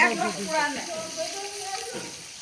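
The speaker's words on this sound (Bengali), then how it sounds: "এক পাশটা সুন্দরভাবে ফ্রাই করে হ্যাঁ, তারপর আরেক পাল্টে" Fish frying in a pan sizzles softly and steadily while a voice talks over it close by.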